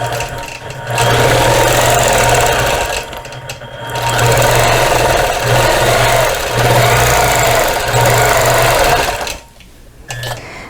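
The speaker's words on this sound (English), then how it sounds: "I'm going to start quilting, and I'll show you what that looks like" Sewing machine in stitch-regulated mode quilting a cabbage rose design at 12 stitches per inch, a loud steady motorized hum and rapid needle chatter running in long bursts with short pauses, stopping near the end.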